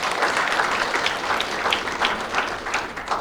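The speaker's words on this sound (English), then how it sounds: "Let's give him a round of applause." Audience applause fills a mayoral election forum hall, steady dense clapping from a seated crowd throughout, fairly loud and close with no break.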